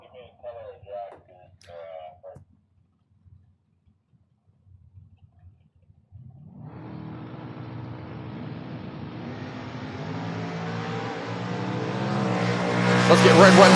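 A Chevrolet Nova drag race car launches at a drag strip event: after a brief announcer voice and near silence, a roaring engine builds steadily from about six seconds, growing louder and higher until the clip ends.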